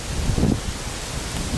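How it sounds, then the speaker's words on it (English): Wind gusts through leaves along a creek line on a blustery day, a soft broadband rustle with a slightly stronger swell near the start, steady and moderately quiet with no voices. "Windy day today, so we thought we might come in to the creek line, try to get out the wind"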